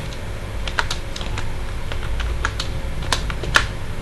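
Steady computer keyboard typing, close and clear, as PHP code is entered, with a few sharper keystrokes standing out over a constant background hum.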